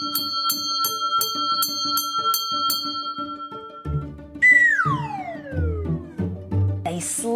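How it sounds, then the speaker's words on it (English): A fire station alarm bell rings in rapid repeated strokes, then gives way to a rising and falling siren-like wail with deeper tones underneath. "wait for the alarm bell to ring to let them know that there is a fire"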